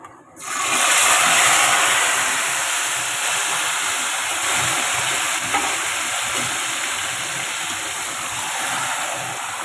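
Marinated chicken drops into a hot pan on a high flame and erupts into a loud, close, continuous sizzle that rises sharply at the start and holds steady, with a kitchen chimney hood whirring behind it.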